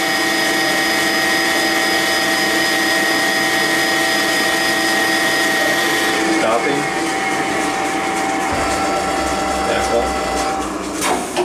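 An Eldorado M75-30XT gun drill runs with its coolant flowing, giving a steady loud machine hum with pump whine and tonal drone. Partway through, the tone shifts as the drill feed starts and the mechanical noise becomes rougher.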